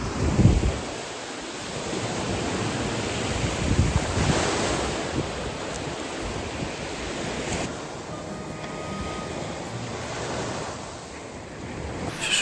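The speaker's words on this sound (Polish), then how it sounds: "Ja i morze." Sea waves washing onto the shore on a calm, sunny morning, a continuous soft roar of surf with gentle swells and light wind rumbling on the microphone, no voices.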